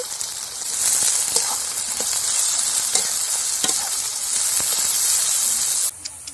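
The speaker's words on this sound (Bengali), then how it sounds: "তেলটা গরম হয়ে গেছে, এবার আমি পেঁয়াজ দিয়ে দেব।" Finely chopped onions fry in hot oil in a village kitchen, a loud continuous sizzle with occasional stirring scrapes, cutting off abruptly near the end.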